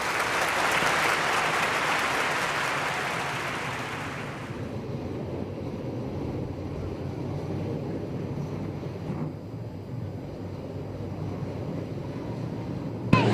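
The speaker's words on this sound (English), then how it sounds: "Nice round of applause for the winner in the 56 car, Mr. Steve Conrad." Grandstand applause at a sprint car race track in Ventura, California, salutes the heat winner in the 56 car. It is a dense burst for about four seconds that cuts off, leaving a low, windy rumble of track ambience.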